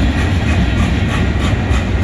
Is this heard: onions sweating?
no